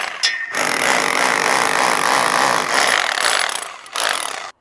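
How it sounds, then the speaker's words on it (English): A hammer drill fitted with a chisel bit chips cement off a window reveal, giving one loud, close, continuous rattling burst for about four seconds before cutting off abruptly. "you can clean it off with a chisel bit on a hammer drill."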